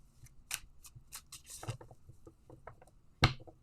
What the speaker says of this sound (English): I put her to sleep with the shuffling